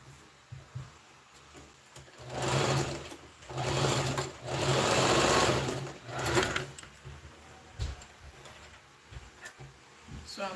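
A sewing machine stitches fabric pieces for a summer top, running in several loud, steady whirring bursts in the middle, with quieter pauses and handling clicks before and after.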